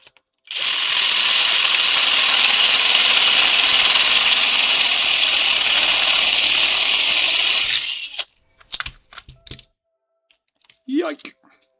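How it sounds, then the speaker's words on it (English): A power drill bores out a piece of metal with a loud, steady high whine for about seven seconds, then stops, followed by a few short metallic clanks and rattles. "Need to drill that out."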